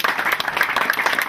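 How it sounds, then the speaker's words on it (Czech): Brief burst of crowd clapping at a tennis tournament ceremony in Zlín, 2009, close and fairly loud with individual claps audible in a quick, uneven patter. "Takže zatleskáme."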